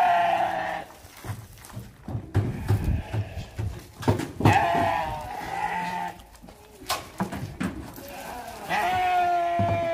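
Sheep bleat repeatedly at a sacrificial sheep delivery in Tangier, several loud, wavering calls coming one after another over a busy background of shuffling and clatter.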